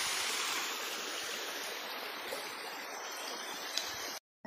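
Steady rushing and gurgling of a shallow jungle stream on a hike at Lata Makau near Kuala Kubu Bharu, a continuous close wash of water with no voices, ending in a brief cut to silence.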